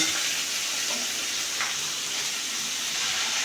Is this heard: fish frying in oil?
yes